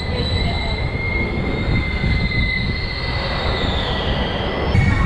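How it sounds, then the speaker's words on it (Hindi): Bhopal Shatabdi Express rolling into Lalitpur Junction, a steady loud rumble of rail cars with a sustained high wheel squeal running throughout, close and continuous. "ट्रेन हमारी पहुंच चुकी है ललितपुर जंक्शन"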